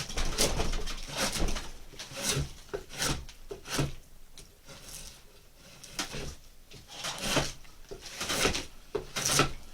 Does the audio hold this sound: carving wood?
yes